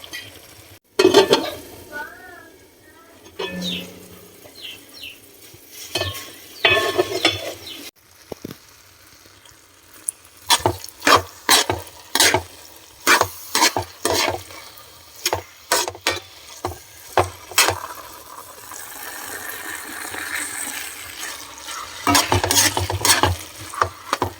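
Food frying in oil in a pan while a utensil stirs and scrapes, giving sharp metallic clicks and scrapes spaced through a soft steady sizzle, close and clear.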